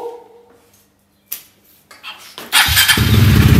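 A motorcycle engine cranks and catches in a home garage space, preceded by a few clicks and bumps, then bursts into a loud, close, rumbling idle that continues to the end.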